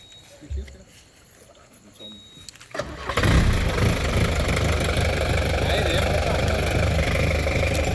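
A vehicle engine starts up abruptly and then runs loud and steady as the vehicle moves forward, after a few quieter moments with voices.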